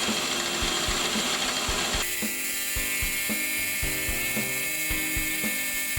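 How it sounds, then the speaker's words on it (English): A milling machine cuts away the central sections of a metal part clamped to an angle plate with a somewhat blunt end mill, a loud continuous grinding whine with regular rhythmic knocks, close up and without talk. "I could mill away the central sections"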